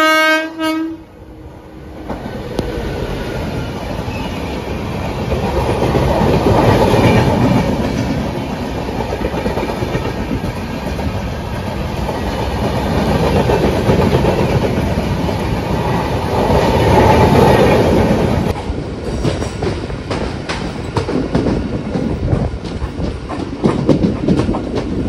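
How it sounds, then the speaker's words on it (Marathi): The 16346 Netravati Express passes close by on a Konkan line, opening with a loud horn blast, then a long roar of wagons clattering over rail joints that swells and fades in waves for about twenty seconds. "समोरून आता ट्रेन क्रॉस होते"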